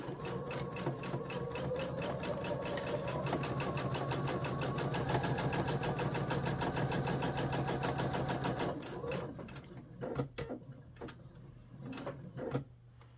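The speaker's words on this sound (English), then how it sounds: "I'm going to hit that button that tells my machine to go ahead and do those last few tie-off stitches" Sewing machine running a long steady stitching pass through fabric, a close, dense, even mechanical whirr that stops near the end, followed by a few sharp clicks and taps.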